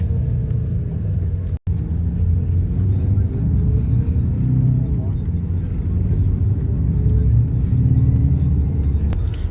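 A Volvo 9400 multi-axle AC sleeper bus travels from Bangalore to Hyderabad, its engine and road noise forming a steady loud interior rumble throughout, with a brief dropout near the start.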